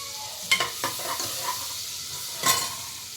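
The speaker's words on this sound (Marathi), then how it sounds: "एक वाटी आपण कांदा घेतला होता तो आपण त्यात घातलेला आहे" Chopped onion sizzles in butter for pav bhaji, a continuous close frying hiss broken by a few distinct scraping stirs of a spoon against the pan.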